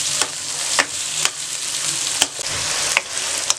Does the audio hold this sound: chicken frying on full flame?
yes